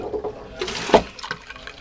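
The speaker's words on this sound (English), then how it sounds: "All right, now let me flush." A Jabsco manual marine toilet flushes with a burst of rushing, gurgling water and a sharp splash near the middle, followed by smaller trickles and drips close by.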